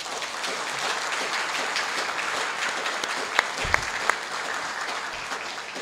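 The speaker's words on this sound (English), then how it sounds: "we should give all of them a round of applause" Steady applause from a seated audience at a speech event fills the room, a dense even patter of clapping with no talk over it.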